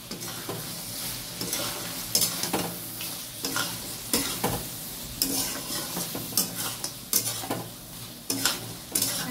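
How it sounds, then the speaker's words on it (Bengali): Ginger paste, tomato paste and green chilli paste with ground coriander and cumin fry in a pan, giving a steady, close sizzle broken by repeated scraping stirs and sharper spikes as the spoon works the masala. "এখানে আদা বাটা, টমেটো বাটা, কাঁচা লঙ্কা বাটা, ধনে গুঁড়ো, জিরে গুঁড়ো দিয়ে মশলাটা দিয়ে দিলাম।"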